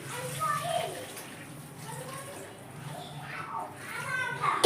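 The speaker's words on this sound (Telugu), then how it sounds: "ఇప్పుడు ఇందులోకి వాటర్ పోసుకోవాలండి" Water is poured into crab curry in a pot, a steady splashing wash under voices that carry on throughout.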